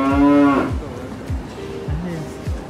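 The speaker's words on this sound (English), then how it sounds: "Oh, there's a cow downstairs." A cow moos loudly and close by in a single strong, tonal call, followed by quieter low grunts and murmurs of nearby cattle.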